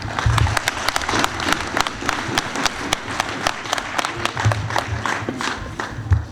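A crowd at an annual function in Faisalabad applauds, loose uneven clapping with distinct nearby claps and low crowd rumble beneath, fairly close and lively.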